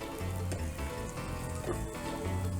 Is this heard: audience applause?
no